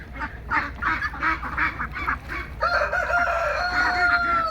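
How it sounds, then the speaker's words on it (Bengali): A large flock of 1.5-month-old Belgium hybrid ducks on a Bangladeshi-style farm quacking and calling together, a dense, continuous chorus of overlapping bird voices at close range with no talk. "প্রচুর পরিমাণে হাঁস।"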